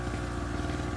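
A Harbor Freight two-stroke generator engine runs steadily at about 3,600 RPM, giving a continuous, close, throbbing drone with a fast, even pulse and no voices.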